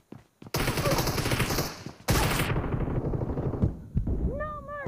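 Rapid automatic gunfire from a PUBG sniper team deathmatch, loud and close, in two long sustained bursts separated by a short gap, followed by a few scattered shots and a brief chirping tone at the end.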